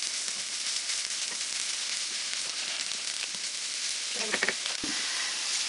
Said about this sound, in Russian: Тоже буквально 2-3 минуты их обжарим в сковороде